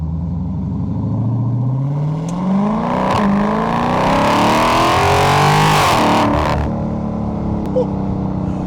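A 2023 Dodge Charger Scat Pack Wide Body engine revs up with a deep, rising roar, climbing through the gears as it accelerates, loud and close throughout.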